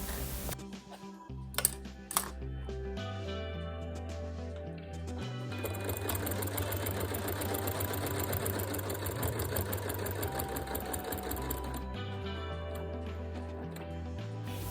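A sewing machine stitches through a quilt sandwich with a steady, close whirring hum that runs for several seconds. A few short clicks and knocks come before it starts, and the motor stops near the end.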